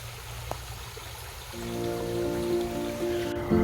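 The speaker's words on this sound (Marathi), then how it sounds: "हा असा थोडा इथे ओढा वाहतो पाण्याचा." A small stream runs through foggy forest at a mountain ghat, its soft continuous trickle and burble steady and fairly quiet, with a low hum building underneath.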